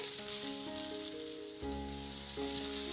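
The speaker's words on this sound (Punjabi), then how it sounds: "ਅਦਰਕ ਔਰ ਹਰੀਆਂ ਮਿਰਚਾਂ ਨੂੰ ਵੀ ਆਪਾਂ ਪਿਆਜ਼ ਦੇ ਨਾਲ ਥੋੜਾ ਜਿਹਾ ਭੁੰਨ ਲਵਾਂਗੇ" Chopped onion, ginger and green chilies frying in a pan for a tinda curry, a steady soft hiss of oil under a faint hum, brief and quiet.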